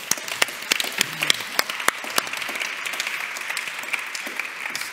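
Audience applause at an art award presentation honoring an artist in Switzerland, with dense steady clapping and sharp individual claps standing out, continuing evenly throughout.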